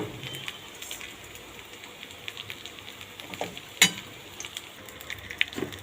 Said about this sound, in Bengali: এবার আমি কড়াইয়ের মধ্যে ফোড়ন দেব।